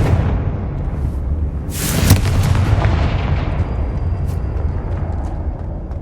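A fiery Confringo spell in Hogwarts Legacy goes off as a loud, booming blast with a sharp crack near the middle, set over a steady roaring rumble that fades slowly.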